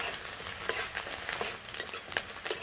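Diced onion frying lightly in a pan gives a steady close sizzle with soft stirring scrapes and a few sharper clicks of the spatula, and no voices over it.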